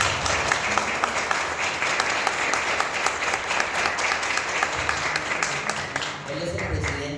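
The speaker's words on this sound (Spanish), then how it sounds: "les pido un fuerte aplauso" Audience applause fills a hall at a conference on crafts, art and design tied to the National Ceramics Prize: dense, loud, steady clapping that carries on unbroken for several seconds and eases slightly near the end.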